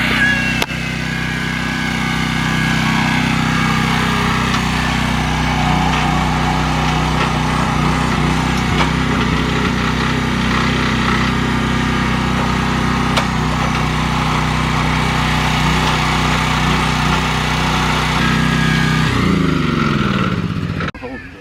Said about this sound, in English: if you give a man an auger